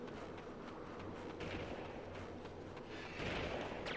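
Enemies in a retro shooter video game fire their weapons in steady, rumbling gunfire bursts. The shots sit faint and muffled under a noisy game soundtrack, with a louder burst near the end.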